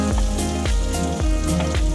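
Eggplant and chopped onion fry in the oil rendered from fish, giving a continuous close sizzle with soft popping crackles throughout.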